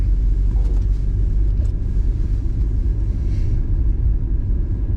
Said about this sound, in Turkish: Arabalar daha doğrusu tırlar buradan geçiyor.